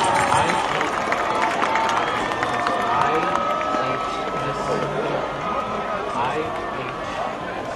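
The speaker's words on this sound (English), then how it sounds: "give one more round of applause" A large crowd at a high school football game cheers and murmurs in a broad, continuous roar that stays loud throughout, like a stadium audience, just before halftime entertainment.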